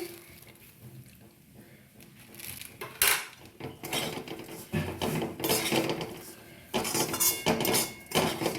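A spoon mixes sugar and milk powder into vermicelli for a Ramadan dessert, with repeated clinks and scrapes against a dish that grow busier and louder toward the end, close by, with some faint background voice.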